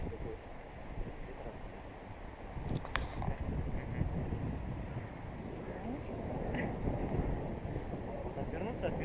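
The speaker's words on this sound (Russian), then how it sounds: "Вот отвернуться от ветра." Wind gusts buffeting an outdoor microphone, a steady low rumbling roar that swells and eases over several seconds, with a few faint clicks mixed in.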